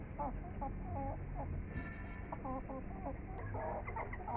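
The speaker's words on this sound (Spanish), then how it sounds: "Se supone que es la gallina y el gallo, dice, el macho." A hen and a rooster cluck softly in short, scattered calls at moderate distance over a low background hum, with no talking.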